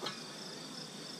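Honey bees swarming over a hive frame during an inspection, a dense, steady high buzz that stays even and fairly faint throughout the short stretch.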